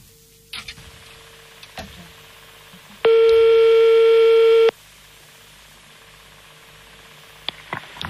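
Telephone ringback tone on a French landline call, a steady loud electronic tone lasting about a second and a half in the middle, with faint room noise and quiet clicks before and after while nobody picks up.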